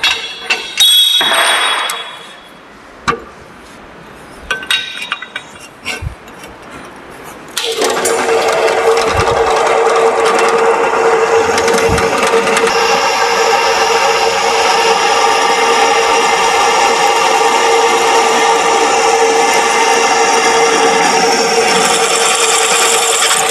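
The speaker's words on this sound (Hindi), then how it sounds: "स्टेट सैंक ट्विस्ट ड्रिल के द्वारा होल होकर कंप्लीट हो चुका है।" A 12 mm straight shank twist drill bores a hole in a workpiece in an ITI fitter workshop: scattered clicks and knocks of setup come first, then a loud, continuous whining drone that runs unbroken to the end.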